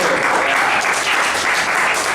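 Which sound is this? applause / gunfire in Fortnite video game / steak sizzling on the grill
applause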